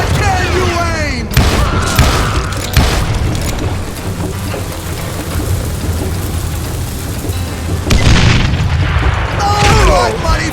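Gunfire in the Western shooter Call of Juarez: Gunslinger, loud booming shots and rapid volleys under a dense, noisy game mix, with bursts at the start and again near the end.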